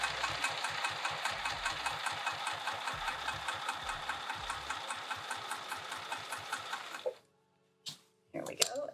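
A sewing machine stitches a bag with piping in steady, rapid mechanical pulses for about seven seconds, then stops, leaving near silence broken by a couple of brief clicks and handling sounds.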